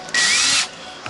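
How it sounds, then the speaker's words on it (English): A power drill bores a hole at the edge of a split in a plastic front bar of a Nissan Skyline R33 GTST, a close, loud whirring whine lasting about half a second before it stops. "drill a hole at the edge of the split"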